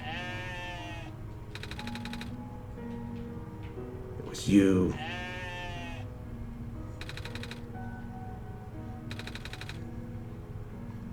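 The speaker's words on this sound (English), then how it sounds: "Sheep!" A single wavering sheep bleat from the video game OneShot rises over a steady, low musical backdrop, with a short line of speech nearby and bursts of rapid ticking.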